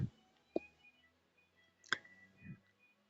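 A few sharp, quiet computer mouse clicks come one by one with pauses between them in an otherwise quiet room.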